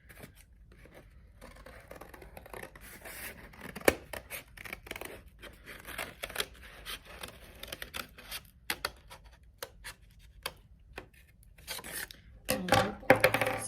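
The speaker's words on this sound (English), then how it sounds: "So I'm going to cut this very carefully now and show you." Scissors cut slowly and carefully along a line through paper, producing a long run of soft, irregular snips and crunches, close and quiet, which grow a little louder near the end, with no talk.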